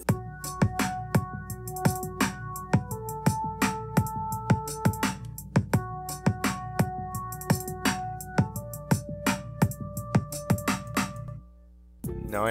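Quantized synth melody from a remake of the Stranger Things theme, with steady rhythmic plucked notes over sustained tones and a pulsing beat, moderately loud, dropping briefly near the end before resuming.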